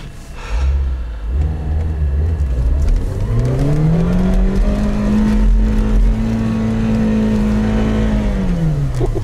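A Lada Niva engine revs hard in first low-range gear with the differentials locked, climbing a small hill off-road; a loud, steady droning roar holds its pitch for several seconds before easing off, with no talk.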